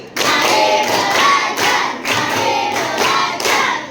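A classroom group claps in a structured rhythmic pattern, several bursts of crisp, loud hand claps in quick succession, repeated twice over a few seconds with brief gaps between them.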